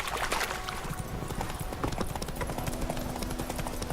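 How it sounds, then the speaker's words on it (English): A horse gallops in The Witcher 3: rapid, continuous clip-clop hoofbeats, close and loud, driving steadily from start to end. "Run, Roach"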